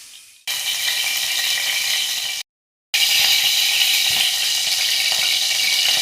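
Cooking oil heats in a cooking pot for masala khichdi, giving a steady broadband sizzle that hisses continuously, breaks off briefly into silence, then resumes just as loud.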